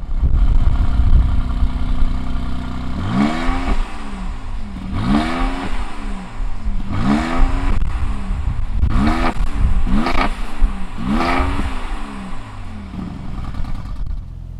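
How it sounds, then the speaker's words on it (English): A 2020 Mercedes-AMG GLC 43 twin-turbo engine starts with a low rumble, then gives about six sharp, loud revs rising and falling in quick succession, each dropping back to idle. "Let's fire up this GLC 43 and see what it sounds like."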